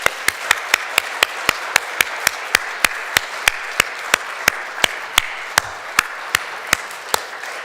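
A church congregation at a Sunday service claps in unison to a firm, even beat, about three sharp claps per second, each crack loud and crisp against a quiet room murmur.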